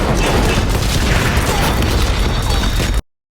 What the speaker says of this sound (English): wait for Strandberg to meet with Zaden at the school and blow them up with a fucking APC turret